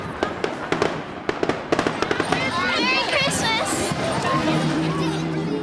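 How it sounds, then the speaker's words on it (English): Fireworks crack and pop in a quick irregular string at a community holiday celebration in Greenfield, Pittsburgh, then give way to a crowd murmur and chatter. "you're likely to find fireworks exploding at some point or another"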